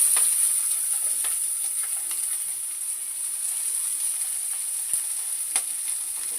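Onion and potatoes drop into hot oil crackling with chili, mustard seeds and cumin for kanda poha, a steady close sizzle with a few sharp pops scattered throughout.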